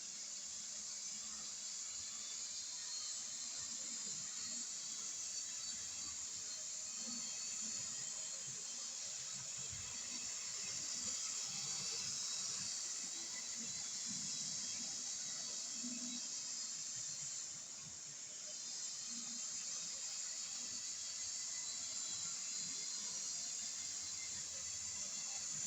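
Faint steady whir and hiss of a small model train pulled by a class 47 locomotive, running continuously, with soft rattling clicks underneath, no voices.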